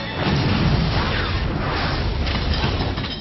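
An explosion in the film Frequency (2000) makes a loud, sustained roaring blast with heavy low rumble and crackling debris that holds for about three seconds before cutting off.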